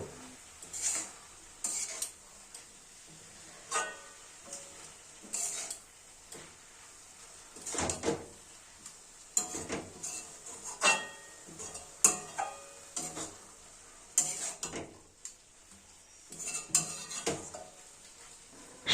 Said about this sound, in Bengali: হলুদ লবণটা শাকের সাথে ভালোভাবে মিলিয়ে মিশিয়ে নেব